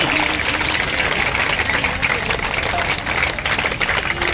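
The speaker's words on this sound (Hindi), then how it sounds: "जोर से ताली मिलाओ" A crowd at a union rally claps steadily and loudly, a dense continuous patter of hands under some background voices, lasting the whole stretch without a break.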